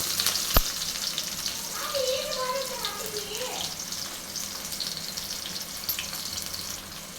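Onion fries in hot oil with a continuous close sizzle, a sharp click near the start and a few faint tonal sounds under the crackle, no clear talk.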